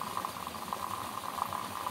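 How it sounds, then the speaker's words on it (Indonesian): A steady, quiet swirling and scraping of a spoon stirring a tablespoon of powder into water, a continuous wet churning with faint rhythmic pulses and no talking. "Kita larutkan ke air, ya. Kita aduk-aduk."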